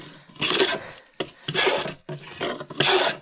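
A hand plane takes rough shavings off a wooden workbench top in four loud, rasping strokes, each about half a second, with short pauses between, close up and without talk.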